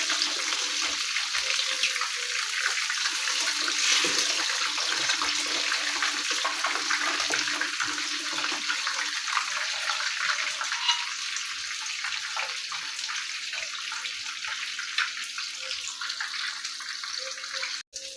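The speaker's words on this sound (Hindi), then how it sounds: "मैं इसको थोड़ा सा अभी और फ्राई करूँगी।" Fish fries in a pan, giving a continuous dense sizzle and crackle that holds steady and close for the whole stretch, with only faint dips and no voice.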